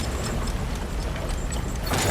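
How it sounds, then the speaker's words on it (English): Mechanical wheel being turned in God of War Ragnarök, a loud grinding rumble with faint clicking ratchet ticks, swelling near the end. "There should be a way to turn the wheel"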